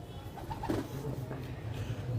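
Soft, low pigeon coos repeat from a pigeon loft in Lahore, Pakistan, over a steady background hum, with faint bird calls mixed in; no talking.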